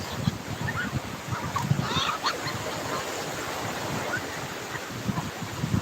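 Waves wash in at the seaside, a steady roar of surf with gusts of wind buffeting the microphone throughout.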